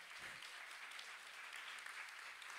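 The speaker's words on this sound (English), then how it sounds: "ask everybody to give a huge round of applause to our co-chairs" An audience applauds the co-chairs at the Art in Bloom 2021 event. The clapping is a steady, even wash that sounds faint and distant throughout.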